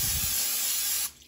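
Cooking oil sprayed inside an air fryer basket before sweet potato fries go in: one loud, close, continuous hiss that stops abruptly near the end.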